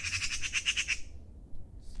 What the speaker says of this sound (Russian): Сорока почему-то кричит.